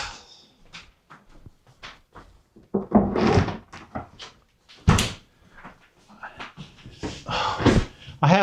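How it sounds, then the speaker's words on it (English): A household door swings shut with a solid thunk, followed by scattered knocks and handling noises in a quiet room; the main impact lands sharply midway, with smaller bumps before and after. "Let me shut my door"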